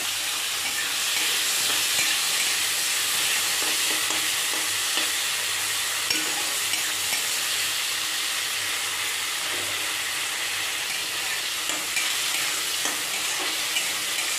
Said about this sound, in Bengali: কড়াই আমাদের তেল গরম হয়ে গেছে, গরম তেলে চিংড়ি মাছগুলো ছেড়ে দিলাম